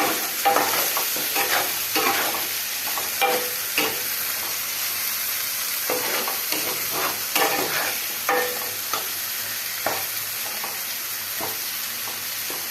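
Masala sautéing in oil for a flour chilli dish, with a spoon stirring and scraping in a steady rhythm over continuous close sizzling throughout.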